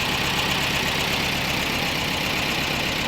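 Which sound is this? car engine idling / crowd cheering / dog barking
car engine idling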